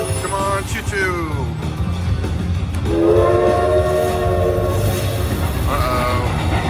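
Train horn and whistle effects from a Cash Express slot machine bonus in a casino, sounding in several rising and falling blasts over casino background noise while someone talks excitedly.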